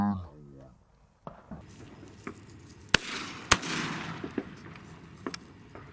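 Shotguns fire while dove hunting in Yuma, Arizona. Two sharp, loud reports stand out among several fainter, more distant pops over outdoor ambience, and a voice speaks briefly at the start.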